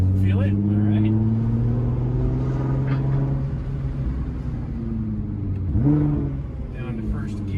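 Nissan GT-R R35 on E85 with a Valvetronic exhaust pulling at wide-open throttle, a deep rising engine drone heard from inside the cabin, with a gear change near the end and a voice talking over it.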